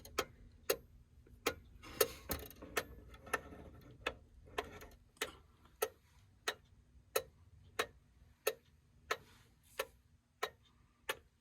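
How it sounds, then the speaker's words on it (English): A mechanical clock ticks evenly in beat, sharp clear ticks about every half second, close and alone in a quiet room. "The clock is in beat."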